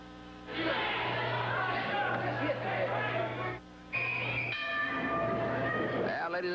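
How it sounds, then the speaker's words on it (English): Wrestling ring bell at a pro wrestling event, clanging through loud arena crowd chatter and cheering, with a brief dip before a second ring rises again over the noisy audience. "the bell sounds"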